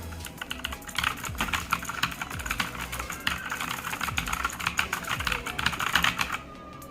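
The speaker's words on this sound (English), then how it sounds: "It is the blue switches. It will create a lot of sound." Rapid, clicky typing on a Redgear Shadow Blade MK853 mechanical keyboard with blue switches, close and steady for several seconds, each keystroke sharp and crisp, stopping abruptly near the end.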